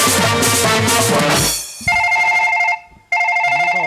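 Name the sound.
phone ringing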